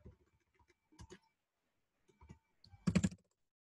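Keys on a computer keyboard are tapped in a few short, sparse bursts, close and quiet, with the last burst the busiest, in a still room.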